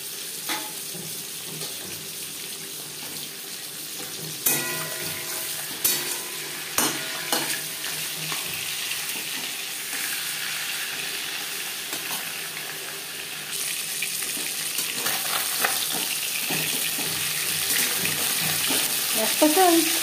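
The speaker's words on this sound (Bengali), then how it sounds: "পরিমাণ মতো সরষের তেল গরম করে নিয়েছি। এবার দিয়ে দেব" A fish head fries in hot mustard oil: a continuous moderate sizzle with occasional utensil clacks, growing a little louder toward the end.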